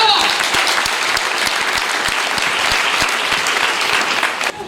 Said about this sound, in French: On acclame Dieu pour sa vie d'abord.